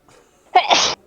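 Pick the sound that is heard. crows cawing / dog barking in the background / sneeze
sneeze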